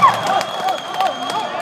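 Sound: crowd cheering at volleyball match after a smash

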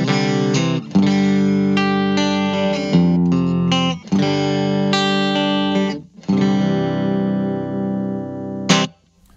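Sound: clean electric guitar tone

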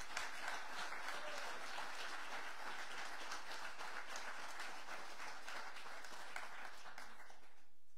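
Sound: audience applause

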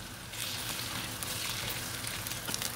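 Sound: tomatoes added and frying with ginger garlic

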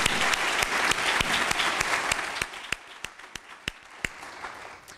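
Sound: applause

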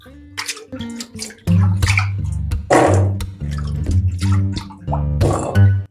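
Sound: draining soda water and rinsing pumpkin

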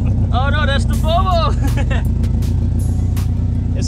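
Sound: Honda Civic EG car with aftermarket exhaust

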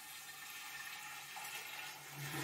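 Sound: wine being poured into a demijohn

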